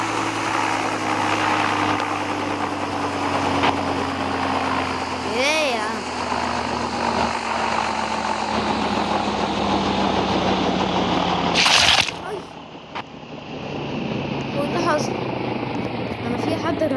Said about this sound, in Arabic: دي طيارة تانية.